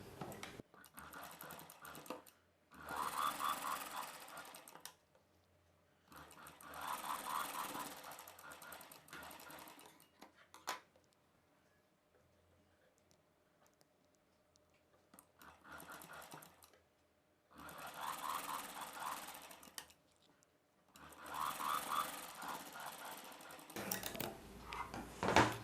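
Sewing machine stitching the shoulder seams of a long gown, running in several steady whirring bursts of a few seconds each, separated by quieter pauses with faint handling sounds.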